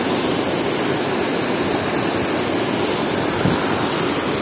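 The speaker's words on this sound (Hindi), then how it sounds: "और ये सामने वाटरफॉल।" A waterfall in a valley roars as a steady, dense broadband rush, loud and close, with no voices over it.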